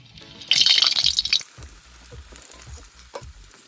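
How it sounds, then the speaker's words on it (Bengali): Potatoes drop into hot mustard oil in a wok, setting off a loud burst of sizzling that settles into a quieter crackle with occasional stirring scrapes. "আমি কড়াইয়ে সর্ষের তেলটা দিয়ে দেবো গরম হয়ে গেছে এবার আমি এই আলুগুলোকে ভেজে তুলে নেবো"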